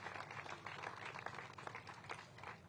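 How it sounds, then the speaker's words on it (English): Audience applause at an outdoor groundbreaking ceremony for the final phase of Skyland Town Center, a steady wash of many hands clapping at moderate volume with no voices over it. "Let's give them a round of applause for their efforts over the years."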